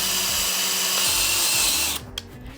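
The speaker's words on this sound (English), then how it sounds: "I like to start it by placing my drill bit in the hole and then starting it." A power drill whines steadily as it bores into wood, then stops abruptly, followed by a couple of light clicks.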